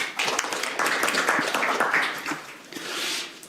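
An audience claps at a Korean National Assembly forum debate on nuclear-powered submarines, a steady close round of applause lasting a few seconds with no voices.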